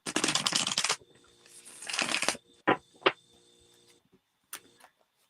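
Tarot cards are handled for a reading in two bursts of crisp shuffling, followed by a few sharp taps and light clicks as the cards are laid down in a quiet room.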